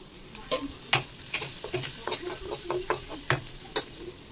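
Chopped onion and garlic frying in a pan for chicken stew, stirred with a utensil: a steady soft sizzle broken by a dozen or so sharp scraping and clattering strokes at an uneven pace, close and fairly quiet, with no voices.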